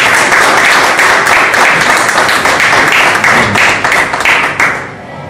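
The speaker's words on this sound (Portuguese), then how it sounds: "Eu queria dar uma salva de palmas ao Senhor" A church congregation breaks into loud, sustained applause during a service, dense clapping filling the room and tapering slightly toward the end.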